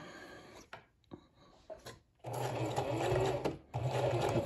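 A sewing machine stitching a ski muff starts after a few soft handling knocks, then whirs in a steady close mechanical run, pausing briefly before resuming.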